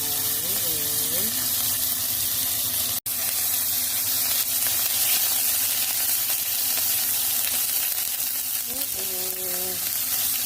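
Garlic sizzles steadily in a hot pan while young pumpkin is stir-fried, a constant close hiss with a short break partway through, and a voice talks briefly over it near the start and end.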